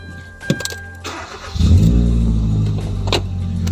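A brand-new 2013 Kia Cerato sedan started up: a few clicks and a short starter crank, then the engine catches with a deep, close rumble and settles into a steady idle.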